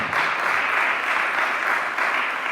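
A church congregation breaks into steady, loud applause that fills the room without a break, with no voices rising above the clapping.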